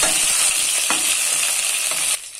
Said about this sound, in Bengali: মশলাগুলো থেকে একসাথে করে ভালোভাবে ভেজে নেব।